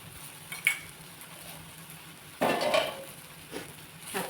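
A cooking pot set on a stove in a home kitchen, heard as a short metallic clank followed by a louder scraping knock and a softer rattle.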